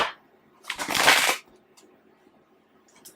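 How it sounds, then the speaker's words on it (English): A deck of tarot cards shuffled by hand: one dense riffling burst lasting under a second, close and fairly loud, then near quiet with faint rustles. "The way the cards are shuffling just feels like a little bit wonky."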